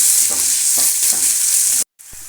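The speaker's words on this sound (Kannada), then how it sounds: "ಈರುಳ್ಳಿ ಫ್ರೈ ಆಗ್ತಾ ಇದೆ" Onions frying in a pan, a loud close sizzle with a few stirring scrapes, cutting out abruptly near the end and then returning more quietly.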